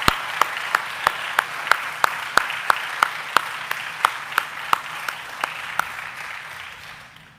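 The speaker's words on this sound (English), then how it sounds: "would everybody please stand in a round of applause for Dr. Hendricks." Applause for an alumni honoree at a distinguished alumni event, heard as a steady, evenly spaced series of sharp claps over a soft background of scattered clapping, slowly tapering off toward the end.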